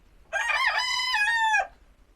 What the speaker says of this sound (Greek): Έχει τον κόκορα που σε ξυπνάει το πρωί.